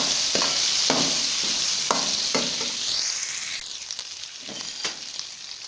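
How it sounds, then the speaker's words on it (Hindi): Turmeric is stirred into chicken pieces frying in a pot for chicken yakhni, with a constant sizzle and a run of rhythmic scraping strokes of a spoon that trail off into softer clinks. "थोड़ी सी हल्दी ऐड करेंगे और इसको मिक्स कर लेंगे।"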